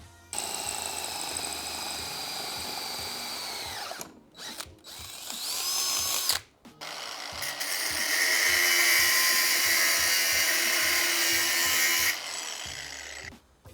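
Power tools whine and grind at close range in long stretches, cutting a metal bracket followed by a higher, sustained drilling sound, with brief pauses between.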